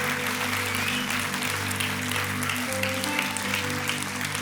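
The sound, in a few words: audience applause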